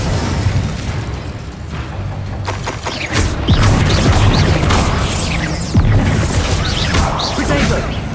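An Incendio fire spell cast in Hogwarts Legacy erupts in loud whooshing bursts and booming impacts amid busy combat noise, with several sharp hits across a continuous roar.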